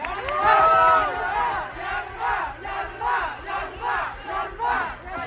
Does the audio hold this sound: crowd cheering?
yes